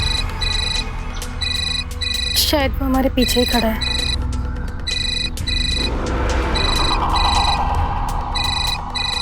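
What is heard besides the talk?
phone ringtone ringing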